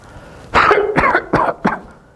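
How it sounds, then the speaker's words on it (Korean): A person coughs four times in quick succession, loud and close, each cough sharp and harsh and spaced about a third of a second apart, followed by quiet. "기침을 하겠죠."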